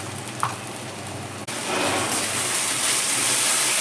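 Ginger-garlic paste hitting hot oil in a pan, a steady, loud hiss of frying and spattering that swells after a brief stir and holds on, close and continuous with no talk.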